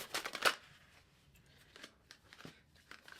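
Tarot cards shuffled by hand in a few quick riffling bursts, loudest at the start and then softer, close and quiet with no talk.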